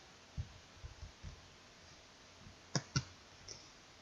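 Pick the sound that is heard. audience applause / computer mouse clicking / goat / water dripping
computer mouse clicking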